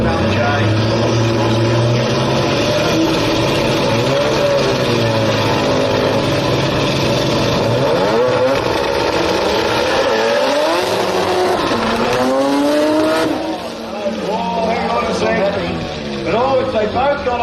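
Drag-racing cars, among them an RX3, roar flat-out down the Brisbane Jamboree drag strip in a finals run, a loud sustained engine howl with rising gear-change sweeps and a brief dip near the end.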